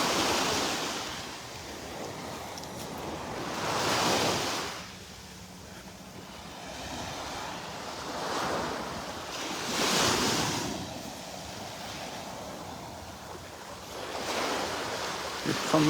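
Ocean waves wash onto a beach in North Naples, Florida, in slow recurring surges roughly every few seconds, with steady wind and surf hiss between them and no talking.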